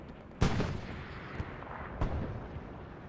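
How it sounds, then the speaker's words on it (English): Grenade explosion in a World War II shooter set at Kharkov: one sharp, loud blast that trails off into rumble, then a second, fainter bang about a second and a half later, with no voices. "instead he elected to make noise and threw a grenade"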